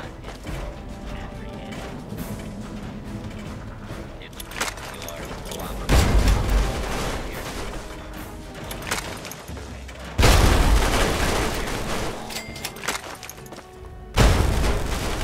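A grenade blast in Fallout 3 goes off loudly and booming, one of three heavy low bursts in a row, layered over a dense, busy game soundscape with music and mechanical clatter.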